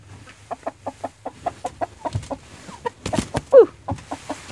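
Chickens inside a coop cluck in a steady run of short, close calls, with a few louder squawks and some shuffling movement among them.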